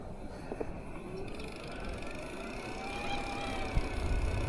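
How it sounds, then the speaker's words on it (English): An Evelo Galaxy Lux e-bike accelerates under motor power with its automatic shifter, a thin electric whine rising in pitch over rushing wind and road rumble, with a faint shift in tone partway through. "that little change in the transmission there as it's ramping up speed"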